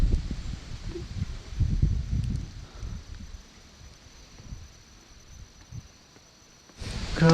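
Low, gusty wind buffets the microphone in uneven bursts, rising and easing, with a brief different rustling noise near the end, on a cold, grassy hillside at Picnic Grove, Tagaytay City.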